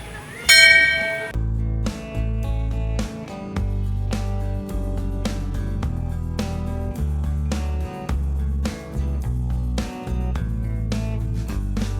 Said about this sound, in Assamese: মানে ছোৱালীয়ে ঘণ্টি মাৰিব।